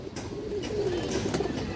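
A male Khora-neck pigeon coos softly up close, a low rolling coo lasting about a second, faint against quiet room noise.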